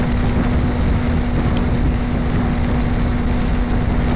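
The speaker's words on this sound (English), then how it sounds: "I hope you can hear me in this wind blast" Steady, loud wind blast roars over a Kawasaki Ninja 300 motorcycle ridden at moderate speed near Victorville, California, a dense continuous rush with a low engine hum beneath and no talk.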